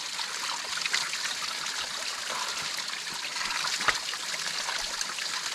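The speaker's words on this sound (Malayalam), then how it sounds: "ഇത് മുകളിൽ നിന്ന് മലമുകളിൽ നിന്ന് വരുന്ന ഐസ് അലിഞ്ഞിട്ട് വരുന്ന വെള്ളമാണ്" A fresh, cold glacial meltwater stream running down from the mountains in Kashmir, a steady close rush and trickle of water throughout with no talk.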